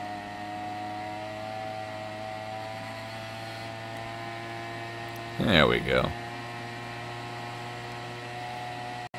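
Gas-powered leaf blower engine warming up, a steady, close droning hum with a strong tonal buzz that holds even throughout, with a brief spoken phrase partway through.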